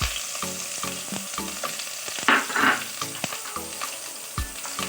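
Crushed ginger and garlic hit hot oil with fenugreek for a fish curry, giving a steady close sizzle. Soft stirring and scraping clinks from a spoon in the pan come and go over it.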